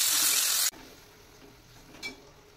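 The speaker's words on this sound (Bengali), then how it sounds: "এখন ওই পেঁয়াজগুলো ওই কড়াইতে দিয়ে দিলাম, সুন্দর করে ভেজে নিচ্ছি সবকিছু" Onions frying in a hot kadai (wok) for a potol dolma recipe, a loud bright sizzle that cuts off abruptly, followed by quiet pan noise and a brief clink of a utensil.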